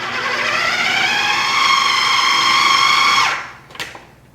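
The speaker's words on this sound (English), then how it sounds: "The food processor will be able to blend that up a lot better" Food processor blending ginger into a paste, a loud steady motor whine running close and continuous for about three seconds before spinning down, followed by a short clunk.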